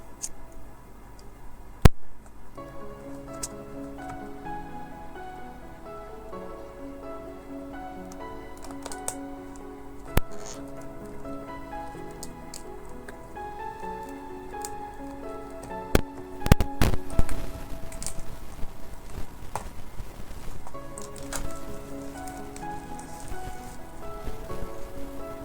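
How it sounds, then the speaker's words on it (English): Poly wrap is cut and a box of TOZO NC9 Pro earbuds opened, giving sharp clicks and a burst of crinkly crackling near the end, all under steady background music. "I am gonna cut through the poly wrap and get in this box open."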